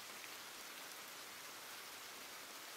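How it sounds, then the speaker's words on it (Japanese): Steady, soft rain falls as a background effect in a narrated ghost story, a constant hissing patter with no breaks or other sounds. "雨の音が響き続けている"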